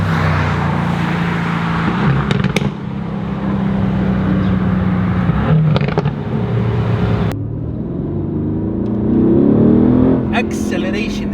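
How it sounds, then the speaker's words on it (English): A Mercedes-AMG GT R in sports mode accelerates hard, its engine and exhaust droning loudly with rising revs, gear-change breaks and a climbing tone near the end, heard from inside the cabin. "The engine noise, there is no fake noise at all in the cabin, unlike the others, AMG models. There's so much exhaust drama here"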